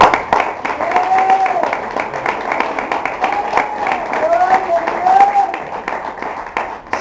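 A church congregation applauds during a sermon, with dense, sustained clapping that swells and dips while voices sound over it.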